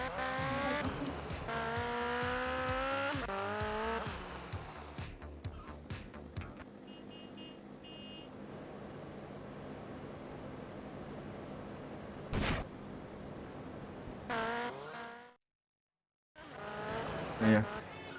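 Motorbike in GTA Vice City Stories on PS2 revving and turning, engine whine rising and falling loudly with tire squeals, then a brief silence before the engine returns.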